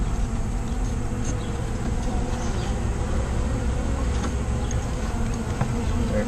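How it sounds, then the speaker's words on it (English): A dense ball of honeybees clustered in an old oak tree during a removal, giving a continuous low droning buzz with a steady hum that stays close and loud throughout, with no talking. "This weird ball of bees down here."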